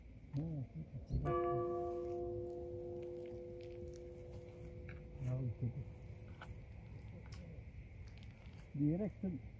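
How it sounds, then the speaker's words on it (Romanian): A single bell strike rings out with a long, sustained metallic hum that slowly fades, faint against an outdoor background, with brief voices before and after. "Hai că bat clopotul."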